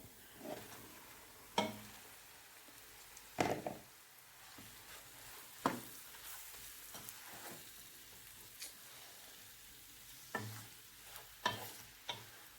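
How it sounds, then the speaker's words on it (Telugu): Faint pan sizzling of marinated chicken frying for chicken curry, with sharp scraping and stirring knocks at irregular intervals, no voices. "ఇప్పుడు మనం చికెన్ వేసుకోవాలి ముందుగా మ్యారినేట్ చేసి పెట్టుకున్న చికెన్"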